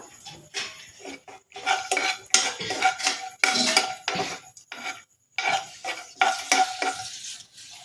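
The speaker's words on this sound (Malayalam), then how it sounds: "നെയ്യ് ചൂടായിട്ടുണ്ട്. അതിലേക്ക് ഞാൻ കുറച്ച് കാഷ്യൂ ഇട്ടു. അതൊന്ന് ഇളക്കാം." Cashews fry in hot ghee while a metal spoon stirs and scrapes the pan, making frequent bright clinks over a light sizzle, with a brief pause near the end before the stirring resumes.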